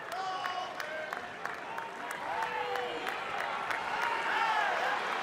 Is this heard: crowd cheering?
yes